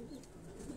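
Faint, low cooing from high-flying pigeons on a rooftop loft, a brief soft murmur heard alone.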